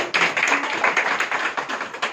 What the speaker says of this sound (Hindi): एक बार जोरदार तालियों से फिर से स्वागत करें